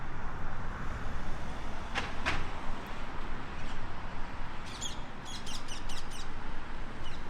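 Escaped parakeets chirp in short bursts of high calls, a few clustered near the end, over steady outdoor background noise.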